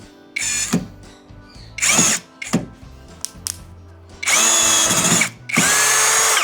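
A NANWEI 16.8V two-mode 45 N·m cordless drill driver drives screws into wood with loud, close whirring bursts. A few short pulses with quiet clicks between them are followed by two longer sustained runs.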